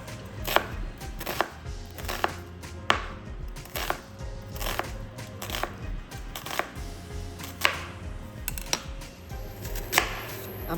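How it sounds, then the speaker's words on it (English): A knife dices a full large onion on a cutting board for a spinach scramble, giving steady, close, crisp chopping taps in uneven bursts, with no talking. "let's dice up our onions first"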